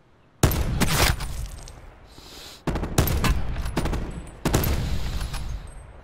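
Gunfire in the Blackout beta video game: three loud, sharp bursts, each trailing into a short rattling decay, with brief quiet gaps between them.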